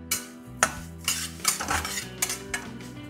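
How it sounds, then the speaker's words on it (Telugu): Coarse semolina roasting in hot ghee as a utensil stirs it around a metal pan, giving several distinct scraping clinks and rasps at an uneven pace, close and fairly loud, with no voices. "రవ్వ ఇలా లైట్ అయ్యేంత వరకు వేయించుకోవాలి"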